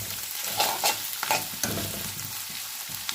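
Bitter gourd fries in a pan with a close, soft sizzle under repeated scraping stirs, several quick strokes in a row before settling into a quieter hiss. No voices.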